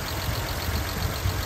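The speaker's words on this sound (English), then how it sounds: "they wanted to hear the engine running, so here's what it sounds like" The engine of a 1951 Nash car idles at a fast idle, a steady, even, rapid low chatter close by with no talking over it.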